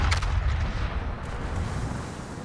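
A heavy naval gun blast from World of Warships opens the moment, and its deep rumbling roar fades slowly under steady loud low-frequency noise.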